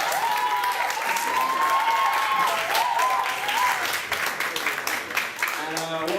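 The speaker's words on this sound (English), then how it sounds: "So, round of applause for Carl." A crowd claps for a performer at a Black History Month stage performance. Dense applause rises under a speaker's voice, then thins and fades as the talk carries on.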